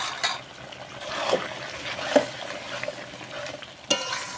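Spiced meat for chicken biryani is stirred as it fries, with a steady sizzle under close spoon scrapes and a few sharper knocks against the pan.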